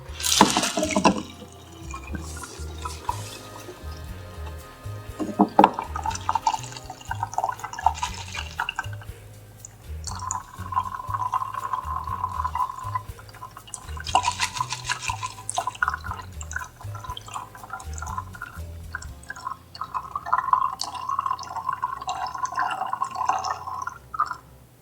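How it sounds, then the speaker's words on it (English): A tiki cocktail, a Mai Tai made with orgeat and crushed ice, pours from a shaker tin into a glass as a steady liquid trickle with dripping and splashing, close by, with faint clinks and no talking. "I'm going to strain into a glass."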